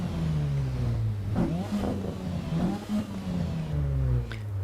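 Car engine in the racing game Assetto Corsa EVO, heard from outside the car: a bassy engine revving up and down through several pitch sweeps, steady and fairly loud with no talking.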